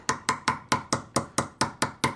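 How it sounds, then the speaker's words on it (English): Ten light, evenly spaced metallic taps of a hammer on a knife spine along a score line to split ice, a quick steady rhythm, close and crisp with slight ringing. "take your hammer, find your score, and just lightly tap along the spine"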